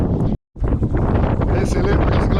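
Wind gusting steadily across a microphone high on a sailboat mast during a climb, broadband and loud, briefly cut out near the start and then blowing continuously, with faint rigging sounds.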